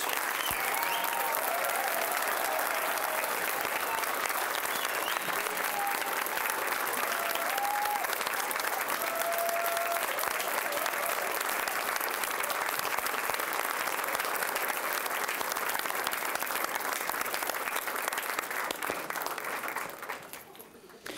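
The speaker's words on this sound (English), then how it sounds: "Can we get another round of applause for all of our speakers?" A long, sustained round of applause from an audience at a student speaking event honoring all the speakers, dense many-handed clapping holding steady for about twenty seconds before tapering off at the end.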